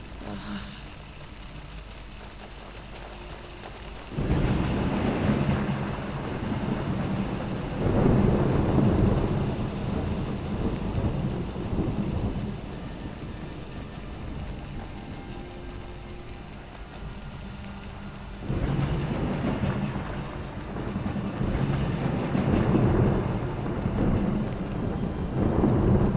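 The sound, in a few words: rain and thunder in Skyrim video game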